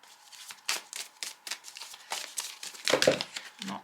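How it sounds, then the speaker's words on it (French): Tarot cards are drawn and shuffled close by, a quick series of crisp paper swishes and flicks at an uneven pace, ending in a slightly louder slap and rustle. "Je vais tirer les deux autres cartes et puis après on va regarder tout ça."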